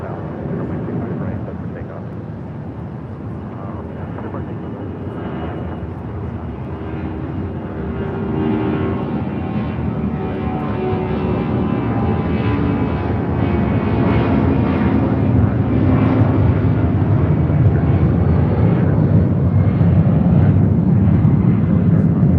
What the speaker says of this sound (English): This is Delta Airlines 8849 taking off to San Antonio on a 757-200.